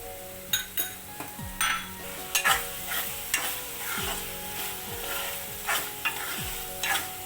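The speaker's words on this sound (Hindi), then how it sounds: "अब हम डालेंगे इसमें थोड़ी सी क्रीम" A spoon stirs a sizzling pizza-topping masala with cream in a pan, giving steady frying hiss punctuated by repeated scraping strokes and light clinks of metal against the pan.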